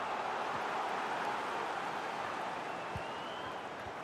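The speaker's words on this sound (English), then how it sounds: "Wow, Derek, just listen to that noise. The crowd realise they won't get too many chances like this" Stadium crowd noise in the FIFA 20 football video game swells as a steady, fairly faint roar of massed voices, broad and unbroken, easing slightly toward the end.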